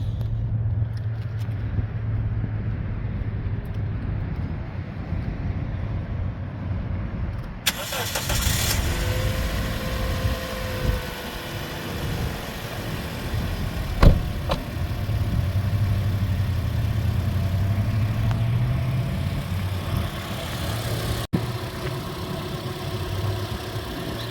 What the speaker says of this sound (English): I'm gonna go through and fire it up for you guys again, just so you can hear how it starts and how it idles.